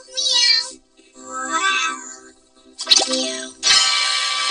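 Several voices, vocoded and processed, imitate cats with a series of drawn-out meows. Four separate bursts come close and clear, with short silences between them.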